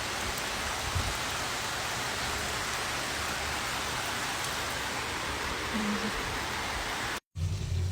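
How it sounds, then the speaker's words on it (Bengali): Heavy rain pours outside in a dense, steady hiss of drops with no letup for several seconds, broken only by one brief cut near the end. "এই যে দেখেন, প্রচুর পরিমাণ বৃষ্টি হইতেছে।"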